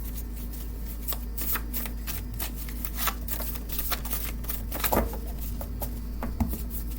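A deck of oracle cards is shuffled by hand, giving soft, continuous riffling and patting at close range with a low steady hum beneath.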